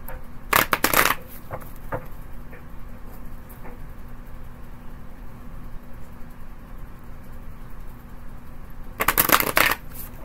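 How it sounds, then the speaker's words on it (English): Tarot cards are shuffled in two short, crisp riffling bursts, one near the start and one near the end, with a quiet room and faint handling noises between them. "couple more good shuffles"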